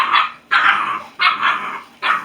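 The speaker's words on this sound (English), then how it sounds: "that is my puppies, who, as you can hear, are doing much better." Puppies bark close by in four loud, sharp bursts, evenly spaced, with no talking.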